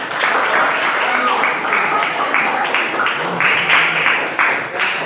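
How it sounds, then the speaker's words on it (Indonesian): A classroom of children applauds together in a steady, dense wash of clapping lasting several seconds, with voices mixed in underneath. "Oke, tepuk tangan buat kita semua."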